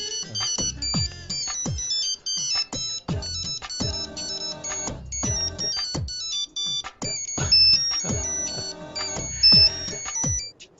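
A telephone ringtone plays for about eleven seconds as a loud electronic melody of repeating bright chiming notes, with no talk over it.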